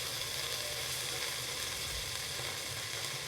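Ginger, green chilli and peas fry in a pan for a sweet rice prasadam, giving a steady, close hiss of sizzling oil with faint stirring scrapes and no talking.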